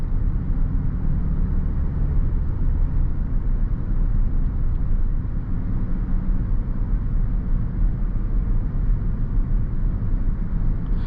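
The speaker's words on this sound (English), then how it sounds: "You do hear like a little bit of tire noise, but it's nice and muted" Muted tire and road noise inside a 2018 Range Rover on the move, a steady low rumble with a soft broadband hiss, constant and unbroken throughout.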